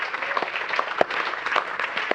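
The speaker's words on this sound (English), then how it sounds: "And that deserves an applause," Audience at a beer science talk giving brief applause, scattered claps with a few sharp distinct hits standing out, moderately loud and short.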